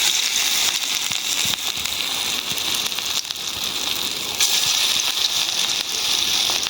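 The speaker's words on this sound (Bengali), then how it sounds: "এখন তেলটা গরম হয়ে গেছে বড়াগুলি দেওয়া শুরু করে দিই" Lentil fritters (bora) frying in hot oil, a dense, even crackling hiss that stays close and steady throughout with no voices.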